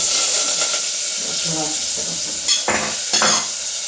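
Loud, steady sizzling of spices and curry leaves tempering in hot oil for bitter gourd curry, close up, with a few stirring scrapes and faint talk underneath.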